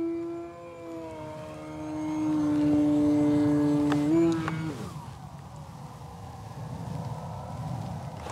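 An E-flite Extra 300 V2 1.3 m electric RC aerobatic plane flying overhead, its motor giving a sustained high whine that rises and bends in pitch as it passes close, then cuts off abruptly, leaving wind noise.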